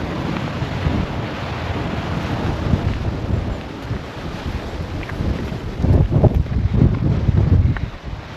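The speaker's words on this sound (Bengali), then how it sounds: "তার সাথে হচ্ছে এত হাওয়া যে ঘাসগুলো কিনা নড়ছে" Strong wind buffets the microphone outdoors on an open grassy hillside, a steady loud rushing roar that surges and gusts harder toward the end, with no voices.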